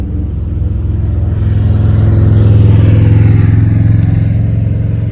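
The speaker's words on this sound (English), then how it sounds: "here come some guys on bikes" Several motorcycles pass on a road in treeless country, their engines building into a loud, steady rumble that peaks midway and then eases slightly as they go by.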